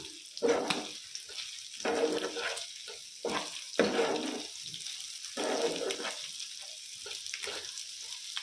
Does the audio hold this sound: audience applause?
no